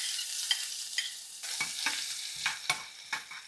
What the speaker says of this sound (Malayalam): ആദ്യം തന്നെ ഈ തേങ്ങാക്കൊത്ത് വറുത്തെടുക്കാം.